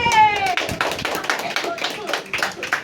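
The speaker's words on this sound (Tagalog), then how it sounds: "Palakpakan sa Team Pogi!" An audience claps for Team Pogi at a Pogi vs Gwapo dance battle, with quick close handclaps from a small crowd over a host's voice and some background cheering.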